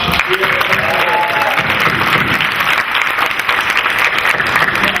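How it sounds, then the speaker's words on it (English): Loud, continuous applause fills a healthcare innovation conference hall as the crowd keeps clapping after a pitch, with an even wash of many hands and faint crowd noise beneath. "Everybody a round of applause."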